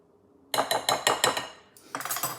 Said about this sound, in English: And we will give this a nice little mix.